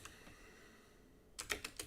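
Typing on a computer keyboard: a quick burst of four or five crisp, close keystrokes after a near-silent pause, with a faint isolated click at the start.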